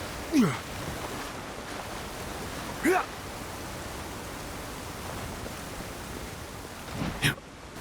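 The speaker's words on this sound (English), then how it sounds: "Let's check this waterfall." A waterfall in the video game Avowed pours as a continuous broad rushing hiss, steady and moderately loud, with a few brief voice-like sounds breaking over it.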